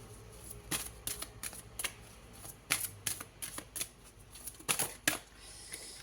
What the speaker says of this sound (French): On va prendre une troisième carte.